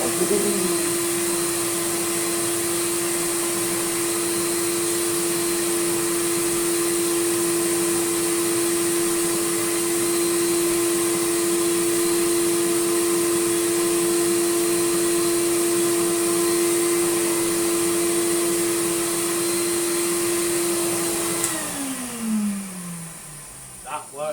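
A restored early-1990s Numatic CDT-570 vacuum cleaner with a straight suction head runs steadily on carpet, a loud continuous motor whine with airflow hiss that holds for about twenty seconds, then winds down as it switches off.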